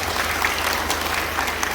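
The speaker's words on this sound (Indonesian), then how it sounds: "Tepuk tangan sekali lagi." Lively applause from a church Christmas gathering, dense steady clapping from a crowd through the whole stretch.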